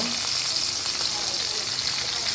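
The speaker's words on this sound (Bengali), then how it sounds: "এখানে আমি ফেট দিয়ে রাখা আদা রসুন দিয়ে দিব" Beaten ginger-garlic paste sizzles with chopped onions and cumin seeds in hot oil, a dense continuous frying hiss, close and loud, without talking.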